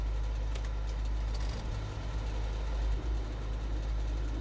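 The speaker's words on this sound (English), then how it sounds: "I can still hear my engine on" A truck engine in the video game Alaskan Road Truckers idles with a steady low rumble and hum, unchanging and continuous throughout.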